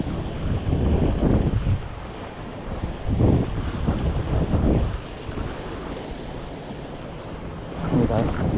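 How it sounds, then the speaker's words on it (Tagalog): Very strong wind buffets the microphone on a fishing outing at sea, a loud, gusting rumble in surges that masks most other sound, with faint water noise beneath. "Malakas nga lang talagang hangin. Napakalakas ng hangin."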